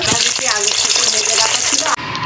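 Hilsa fish head frying in hot oil in a kadai gives a steady, close sizzle with a few stirring scrapes, cutting off abruptly near the end.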